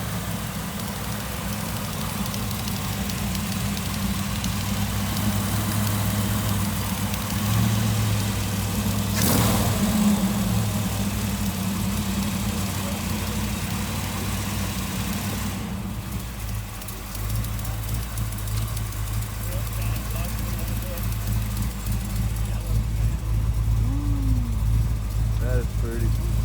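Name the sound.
old car engine started and idling at car show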